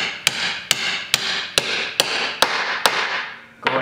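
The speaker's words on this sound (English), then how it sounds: "you're going to want to use the hammer like we did for the inner shaft" A hammer drives a U-joint cap into the yoke of a front 4x4 axle shaft, eight sharp metallic strikes landing at a steady rhythm, each ringing briefly, close and loud with no talk.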